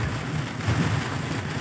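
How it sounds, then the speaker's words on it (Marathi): Heavy rain lashes down in a village storm, a dense, constant hiss of downpour with a low rumbling undertone, close and unbroken throughout. "खूप पाऊस आणि वादळ आहे जोराचं."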